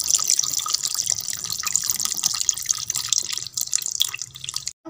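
Dissolved tamarind water is poured into a simmering bitter gourd curry. It makes a steady, close splashing pour that lasts several seconds before stopping abruptly.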